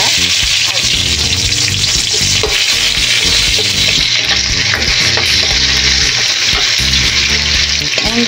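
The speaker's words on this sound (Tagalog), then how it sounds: "Siyempre, the usual na paggigisa, mauna yung bawang, or depende sa inyo. Minsan kasi may nauuna yung sibuyas." Garlic and onion sautéing in a pan for the Ilocano dish poqui-poqui, with a loud, continuous close-up sizzle and occasional stirring clatter, and no talk.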